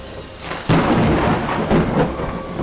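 A thunder sound effect in a dark fantasy dramatized audiobook: a loud, close rolling crash breaks suddenly over steady rain and keeps rumbling to the end, with no voices.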